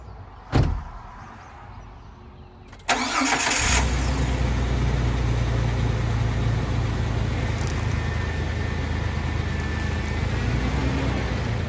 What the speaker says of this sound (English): Castile's gonna bring her Jeep around the front here.